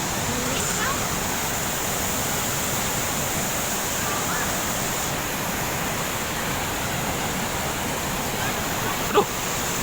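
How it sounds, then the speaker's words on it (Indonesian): Tanggedu waterfall on Sumba island roaring as a steady, loud broadband rush of falling water, continuous throughout with no pauses. "Jadi ini dia penampakan air terjun. Air terjun Tangkidu."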